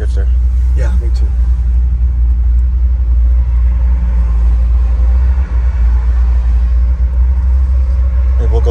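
A 1964 Ford Custom 500 with an FE 390 V8 on dual four-barrel carbs and a four-speed floor shifter cruises along, its steady low engine and road rumble droning loud and continuous from inside the cabin.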